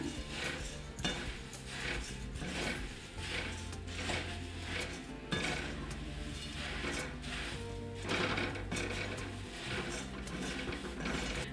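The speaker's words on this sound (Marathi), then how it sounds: "याच्यामध्ये मुरमुरं घालूया मिक्स करून घेऊया" Puffed rice being tossed and mixed in a bowl with fried peanuts and coconut for a jowar chivda, a steady dense crackling and rustling with repeated clattering stirs throughout, close and continuous.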